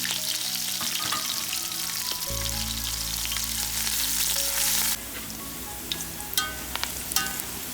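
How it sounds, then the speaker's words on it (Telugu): Onions frying in oil in a bowl-shaped pan until golden, for chicken biryani: a steady, loud sizzle that shifts and changes texture partway through, with a few clinks of stirring toward the end. "దాంట్లో ఆయిల్ పోసేసి దాంట్లో ఆనియన్స్ అనేది ఫ్రై చేసే వరకు మనకు గోల్డెన్ ఫ్రై వచ్చే వరకు అయితే చేసి"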